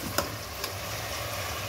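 Garlic and squid sautéing for adobong pusit make a continuous dense sizzle with a couple of sharp utensil ticks near the start, close and even, with no talk.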